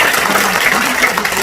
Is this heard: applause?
yes